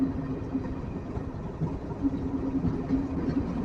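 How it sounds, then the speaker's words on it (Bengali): A local train runs near Banihal station, giving a steady, continuous low rumble with rhythmic clatter that holds at an even level throughout, with no voices over it. "লোকাল ট্রেন এখানকার।"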